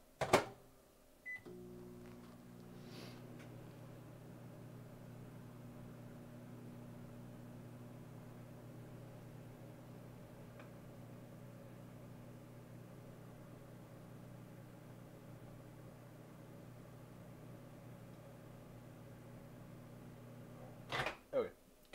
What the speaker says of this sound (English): I'm going to give this one more spin in the microwave